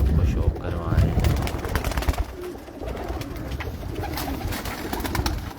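Flying pigeons, female birds kept for display flights, coo on the rooftop of a pigeon keeper's house in Hafizabad, a steady low murmuring chorus close by with outdoor noise and some talk.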